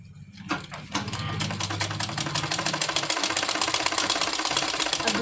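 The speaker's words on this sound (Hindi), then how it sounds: "हम दोनों शोल्डर को ज्वाइंट करके सिलाई चला लेते हैं इस तरह से" A sewing machine stitches the joined shoulder seam of a baby frock. Its close, steady, rapid mechanical whirr and rhythmic needle clatter start after a brief handling noise and run on evenly.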